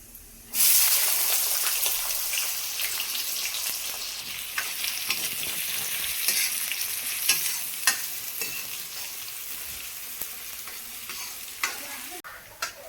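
Onions and cumin hitting hot oil in a kadhai, setting off a sudden loud sizzle that settles into a steady, close crackle with light stirring clicks, with no talk, until it briefly cuts out near the end.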